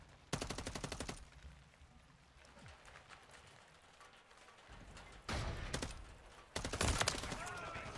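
Bursts of rapid automatic gunfire in Call of Duty, several volleys separated by quieter stretches of ambient noise.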